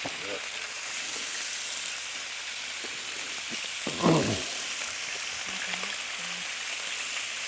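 Bacon and meat frying on a Blackstone griddle, a soft continuous sizzle throughout with one louder scrape or clatter midway and a few small ticks.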